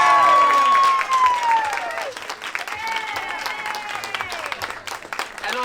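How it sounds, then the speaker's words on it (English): Applause and crowd noise at a speech in a saloon in Sherman Oaks, loud sustained clapping with cheering and voices mixed in, close and continuous. "Can we give her a round of applause?"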